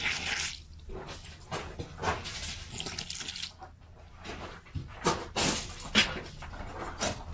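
Water dribbling and splashing from a garden hose during autumn maple bonsai cleanup, irregular close bursts and drips with quiet gaps between.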